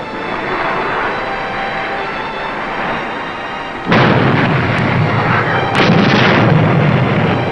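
20-millimeter gunfire aboard a surfaced submarine in a war drama: a dense, continuous roar of firing, with sudden louder surges of blasts layered over steady background noise.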